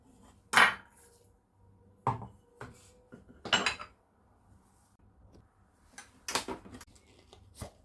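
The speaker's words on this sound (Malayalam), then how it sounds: "ഇനി ഇതെല്ലാം കൂടി ഒന്ന് ചതച്ചെടുക്കാം" Chili powder, turmeric and ground black pepper are crushed together in a kitchen, heard as scattered sharp knocks and scraping clatters separated by quiet gaps, close but moderately soft.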